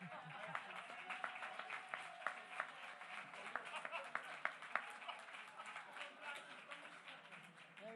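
Crowd applause at a Martin Luther King Jr. Day celebration after a state proclamation is handed over, fairly distant, with mixed claps and crowd noise rolling under overlapping speech for several seconds.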